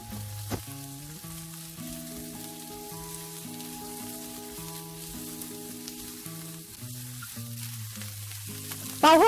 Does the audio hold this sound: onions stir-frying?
yes